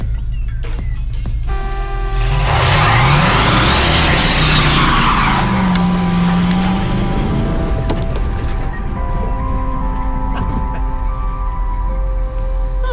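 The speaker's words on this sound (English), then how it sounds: "Alright, let's do a brake test." A 1965 Ford Mustang with freshly converted dual-reservoir drum brakes stops hard, tires skidding and squealing over a steady engine rumble, loud and close, with a rising whine near the middle and no talk.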